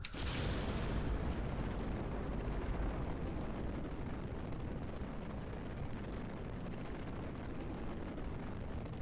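A rocket roars continuously in Kerbal Space Program, a dense, steady low rumble of engine thrust that fills the whole stretch at moderate level with no talk over it.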